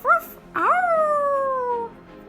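A cartoon dog in the Disney Magic Kingdoms mobile game gives a short, sharp yelp, then a long whining howl that slides downward in pitch. It is loud and close, with no talk over it.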